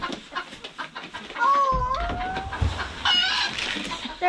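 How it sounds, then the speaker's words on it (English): Backyard chickens cluck and squawk close by in a farm setting, with several rising calls and scratchy rustling over a steady outdoor background. "Come here, chickens."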